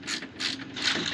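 A ratchet snugs up bolts on a Rough Country winch mount for a 2022 Polaris RZR XP4 1000, giving close, loud bursts of rapid clicking in about three quick strokes.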